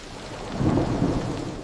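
Heavy rain pours over a village while a deep rumble of thunder swells in the middle and fades slowly, the steady downpour continuing beneath it.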